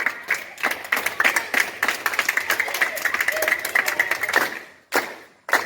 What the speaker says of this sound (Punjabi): ਵੈਰੀ ਗੁੱਡ ਤਾੜੀ ਮਾਰੋ ਜ਼ੋਰ ਨਾਲ